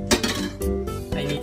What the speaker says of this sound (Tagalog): Ilagay ang kawali.